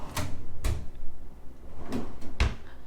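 A hotel room drawer at the Holiday Inn Express in Gatlinburg is slid open and shut, giving four soft wooden thumps in two pairs over a low room hum.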